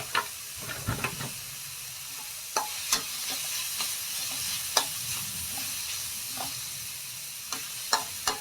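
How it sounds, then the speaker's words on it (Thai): Pork stir-fried in a pan over medium-low heat for a Thai pork, egg and mayom leaf dish, with a steady soft sizzle and scattered scrapes and clinks of the spatula, close and moderately loud, with no talking. "ผัดให้หมูสุกสักแป๊บหนึ่ง"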